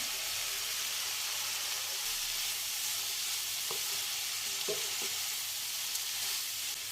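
Potatoes and pre-fried soybeans frying in a pan give off a steady, even sizzle throughout, with a few faint clinks of stirring and no talking.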